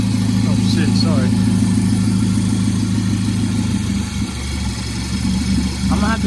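A lowered car's engine idles close by with a steady low droning hum and a slight wobble, while someone talks over it in short bursts.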